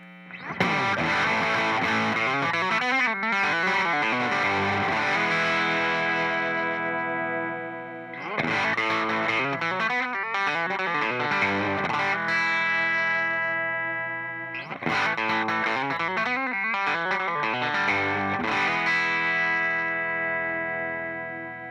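Heavily distorted 2017 Fender American Professional Jazzmaster or Jaguar electric guitar plays three long, loud chord phrases at various gain settings separated by brief gaps, with a thick, saturated tone.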